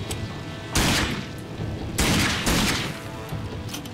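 Gunfire in the shooter game RAGE: loud, close, crackling bursts, with one heavy volley, then two more in quick succession after a pause, plus faint scattered shots in between.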